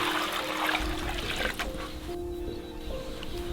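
Water trickles and splashes at a freezing duck pond outdoors, a close, steady wet burble with a faint hum underneath.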